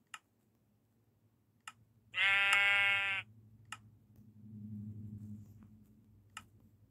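A single sheep bleats once in the Minecraft-style game CountryCraft, a clear bleat of about a second set among sparse sharp clicks and a low background hum.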